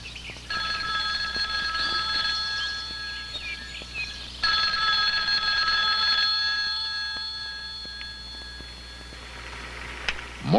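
An old-fashioned telephone bell rings in two long sustained trills over a low steady hum, fairly close and alone, with no talk.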